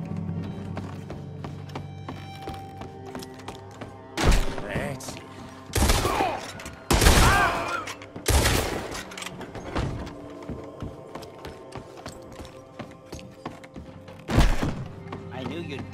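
Gunfire rings out in a Red Dead Redemption 2 shootout, a few loud, widely spaced shots and heavy thuds over a low game ambience, with a voice speaking in between.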